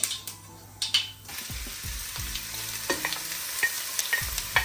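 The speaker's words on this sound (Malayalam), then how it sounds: "സവാള ചെറുതായിട്ടൊന്ന് വഴണ്ടി വന്നിട്ടുണ്ട്. നന്നായിട്ട് വഴച്ചെടുക്കണം." Onions sautéing in oil in a pan, a steady sizzle punctuated by repeated scraping strokes of a spoon against the pan, close and fairly busy.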